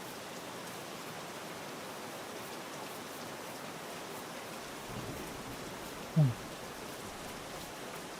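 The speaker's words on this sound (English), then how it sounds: "the rain is really loud" Steady loud rain hisses continuously in the Virtual Hunter deer-hunting video game, a dense even downpour with one brief low thump near the end.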